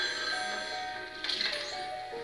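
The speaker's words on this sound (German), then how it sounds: "Das Telefon klingelt." A telephone rings inside the video game Luigi's Mansion 3 as a steady, bright electronic trill of high, layered tones at moderate volume, with no talking over it.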